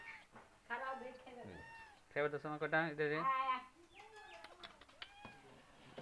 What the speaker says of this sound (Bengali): বিড়ালটা খুব জ্বালাতন করতেছে